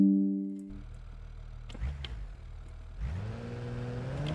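A Mahindra Thar engine idles in the video game BeamNG, then revs in short bursts with a rising whine, loud and close, with no talking.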